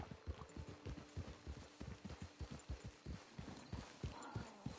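Hooves of a horse in Red Dead Redemption 2 Online clip-clop in a fast, steady rhythm, close and clear, with no talking over them.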